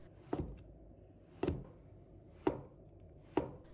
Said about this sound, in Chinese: 然后把它切成薄片